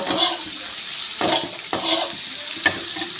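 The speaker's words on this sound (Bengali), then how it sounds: "লঙ্কা দেব, আর একটু নাড়াচাড়া দিয়ে নেব।" Green chillies and vegetables frying in a pan give off a steady loud sizzle, broken by four distinct stirring scrapes spread evenly across the clip, with no talking.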